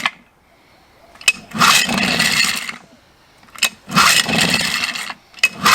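Small boat outboard engine on a Zodiac Classic MK2 inflatable being started with choke and throttle, two long whirring cranking bursts that do not catch, each preceded by a sharp click, close and loud.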